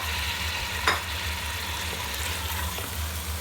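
Fried chicken pieces being stirred into sizzling biryani masala in a pan, a steady bright frying hiss with a soft scrape of a spoon, close and alone.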